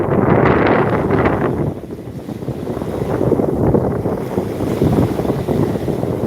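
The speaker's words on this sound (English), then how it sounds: "Enjoy the sounds of the sea" Sea waves washing and breaking along the shore at Sheepshead Bay, with steady wind buffeting the microphone; a loud, continuous rush that dips briefly before swelling again, no voices present.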